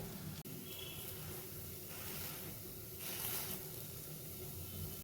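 A maize-flour radish pancake sizzles steadily on a hot pan, a soft continuous hiss with a brief tap as it is flipped and a few swells of crackling.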